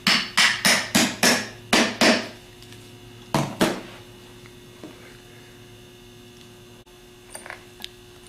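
A Denso starter solenoid housing is tapped down into place with a hammer: six quick sharp metallic knocks, a pause, then two more, followed by a few faint handling clicks over a low mains hum.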